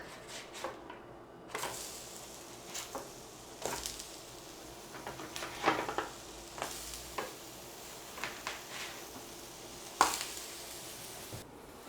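Food sizzles in a frying pan and gets flipped, a soft continuous frying hiss broken by irregular scrapes, taps and clatters of the utensil against the pan.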